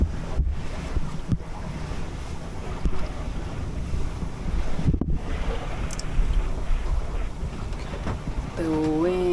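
Steady wind rushes over a sailboat at sea near Othonoi island in the Ionian, a continuous broadband roar with water wash and a couple of brief thumps, no talking.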